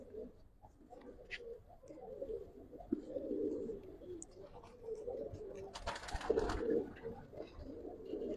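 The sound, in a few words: giribaz pigeons cooing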